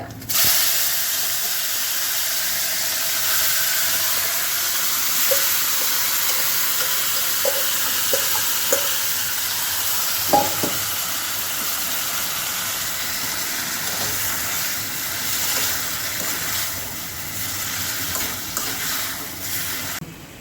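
Curry leaves and chopped vegetables sizzle in hot tempering oil for a Pongal curry, a long, loud, steady hiss with scattered small pops and crackles, no talking.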